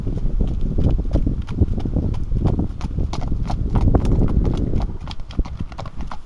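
Hooves clip-clop in an uneven, overlapping rhythm as a Hanoverian and a Haflinger horse walk nearby on a hard surface, steady and fairly loud.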